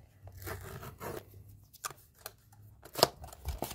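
Plastic film is peeled off a Beats Flex earphone box in short crinkling, tearing rustles, close and fairly quiet, coming in uneven bursts.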